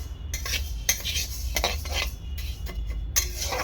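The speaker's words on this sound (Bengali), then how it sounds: "এরকম বারে বারে খুন্তি দিয়ে এরকম নাড়াচাড়া করতে থাকবো, যাতে ডালটা পুড়ে না যায়।" Spatula scraping and turning dry-roasting mung dal in a pan, repeated metallic scrapes and clinks in an uneven rhythm, close and fairly loud over a low steady hum, with no talking.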